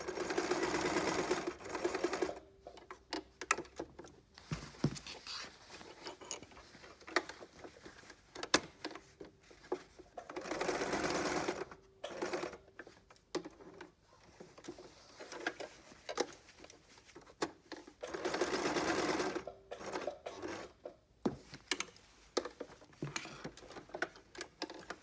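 A sewing machine stitches an apron in several runs of rapid, close mechanical patter, with brief pauses and quieter handling between the bursts.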